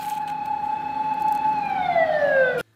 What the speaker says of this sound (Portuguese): aquela sirene de alerta de spoiler